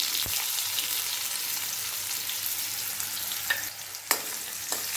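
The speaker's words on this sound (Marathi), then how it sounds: "नंतर एक कांदा हा कापून घेतलेला आहे तो फोडणीला घालायचा आहे" Chopped onion fries in hot oil with mustard seeds, making a loud, steady sizzle close up, with a few sharp pops and stirring clicks near the end and no speech.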